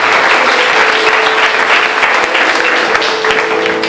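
A church congregation in Madagascar breaks into loud, dense, sustained applause to acclaim Jesus, with the clapping filling the room evenly throughout.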